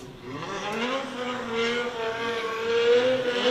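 Drift cars warm their tyres on the Buxton circuit during a British Drift Championship round, with one engine droning and climbing steadily in pitch at a moderate distance and no clear speech.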